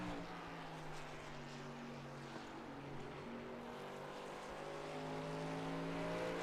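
A race truck engine in a sim racing video game at Richmond Raceway drones steadily throughout, its tone rising and shifting as it powers off the final corner, with no talk over it.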